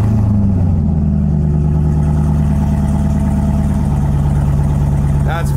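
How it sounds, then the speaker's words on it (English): A car engine cold starts and runs with no exhaust installed, a loud, raw, close rumble holding a steady idle with a rough pulsing throb throughout, no talking. "Should we cold start it without the exhaust on?"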